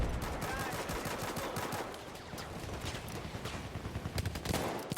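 QSC-92 pistol firing in a Battlefield video game, with rapid repeated gunshots in a dense, fairly faint burst lasting the whole stretch.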